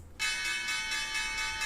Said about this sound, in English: get that bell going.